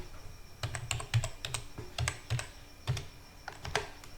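Close, clicky typing on a computer keyboard comes in quick bursts of keystrokes with short pauses between them, no voices present.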